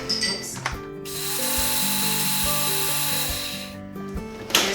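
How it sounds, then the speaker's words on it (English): An old food processor, around thirty years old, whirs steadily as it blends cashews into a grated-parmesan texture, a sustained mechanical grinding with a rattling motor hum that starts after a brief clatter and stops near the end. "this is just an old school, probably 30-year-old food processor that works like a charm"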